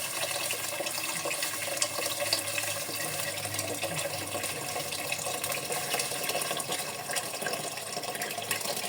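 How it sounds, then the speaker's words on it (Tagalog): Water pours steadily into a pot of shrimp sinigang, a continuous close splashing wash with no break for several seconds. "At maglalagay na rin tayo ng water."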